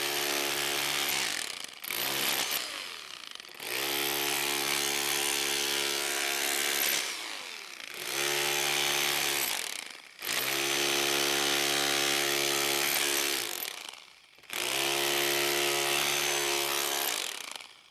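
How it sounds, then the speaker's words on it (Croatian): A Bosch GBH 2-28 F rotary hammer runs in chisel mode, its loud motor whine and rattling impacts coming in several separate bursts of two to four seconds, with short pauses between them. "Sad ćemo se prebaciti na sekač da malo ovo otvorimo još."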